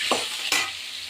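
Sliced ridge gourd goes into a hot pan of oil: a brief burst of sizzling with a couple of quick stirring scrapes over a steady background hiss, close by and without speech.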